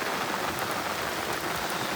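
Steady rain falls at night during the first monsoon downpour, a dense, even hiss of drops pattering on surfaces, close and continuous throughout with no voices.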